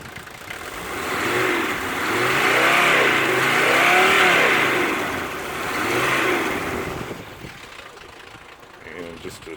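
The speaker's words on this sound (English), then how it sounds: "I just revved it hard, and there's no residue whatsoever." The diesel engine of a 1980 Mercedes 300D is revved repeatedly: the sound rises and falls in broad surges, close and fairly loud, then settles back to idle.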